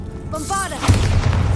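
A Bombarda spell blast from Hogwarts Legacy erupts after a short chiming cast, a loud booming explosion with rumbling, crackling debris that keeps rolling to the end.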